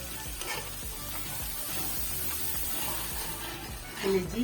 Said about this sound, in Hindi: पहले हम इसको भूनेंगे